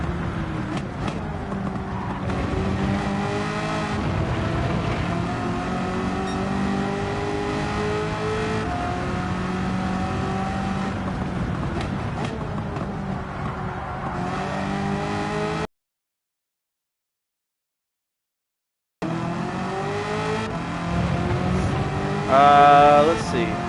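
Race car engine in Gran Turismo 7 revving hard through the gears during a Spec 3 race, a continuous loud rising and falling drone with a brief silent gap and a short burst near the end.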